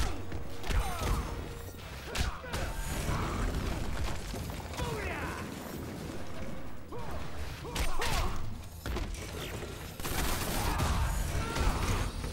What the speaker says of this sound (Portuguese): Só fica metralhando, pô, esse cara.